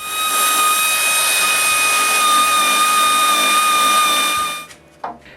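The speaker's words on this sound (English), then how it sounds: "I drill oversized holes on the top of the casing." A power drill bores oversized holes into a wooden night stand casing, a loud steady whine holding for several seconds before spinning down and stopping with a brief clunk.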